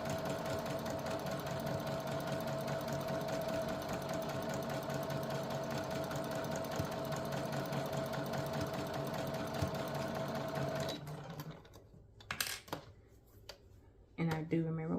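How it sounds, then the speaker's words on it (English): A sewing machine runs continuously stitching fabric, a steady mechanical whir for about eleven seconds before stopping, followed by quieter handling clicks and rustles. "I'm gonna just sew all the way up until I get to my clip that I put in for 4 inches."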